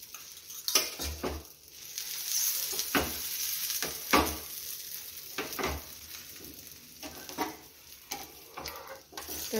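Barnyard millet dosa frying in oil in a pan, a soft steady sizzle broken by repeated scraping and tapping of a spatula against the pan, close and fairly quiet with no talking.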